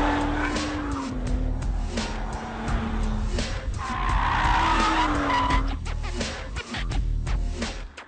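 A BMW 135i is driven hard on a race track, with engine roar and drawn-out tire squeals as the car slides through corners. The sound is loud and continuous, and a passing engine pitch rises and falls.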